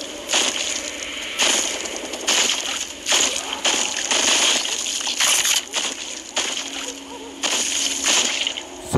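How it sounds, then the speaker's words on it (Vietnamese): Repeated bursts of rapid automatic gunfire in the zombie shooter game Zombeast: Survival Zombie Shooter, loud and close, separated by short pauses over a constant background hiss. "Súng này bắn được liên thanh anh em nhé."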